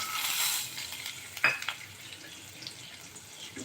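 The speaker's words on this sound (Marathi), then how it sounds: "शेंगदाणे पण छानपैकी यामध्ये फ्राय होऊ द्यायचे आहेत" Peanuts fry in a pan with a steady, close sizzle, loudest at the start and then settling lower, broken by a sharp stirring clink or two, with no voices.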